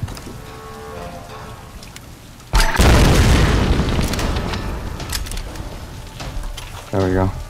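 Grenades explode in the PS5 video game Tomb Raider: a sudden loud blast bursts in partway through and fades into a long rumbling tail, followed by another sharp burst near the end amid game sounds.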